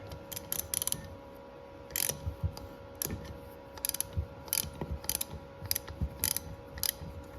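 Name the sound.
ratchet wrench clicking while removing a broken bolt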